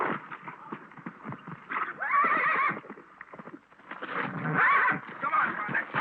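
A horse neighs in repeated loud whinnies over clip-clopping hooves, heard close in a 1930s western ranch scene.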